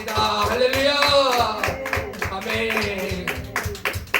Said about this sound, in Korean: 우리 은혜 주신 하나님께 영광의 박수 올려드리겠습니다